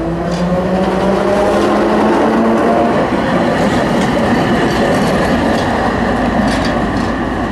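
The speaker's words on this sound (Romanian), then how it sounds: "Și un tramvai negru vine acum," A black tram passes close by on a street in Timișoara, giving a loud, steady rumble with rail clatter and grinding that holds for the whole stretch, with no talking.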